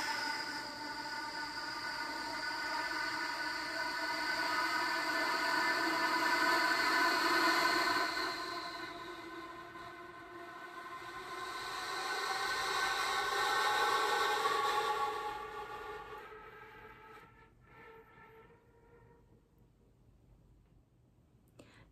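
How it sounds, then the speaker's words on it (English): A flute plays a breathy residual air tone with finger glissandi: airy, whistling partials slide and swell in two long waves, then fade toward near silence. "work on first being able to produce the residual air tone for 20 seconds, then incorporate the finger glissando"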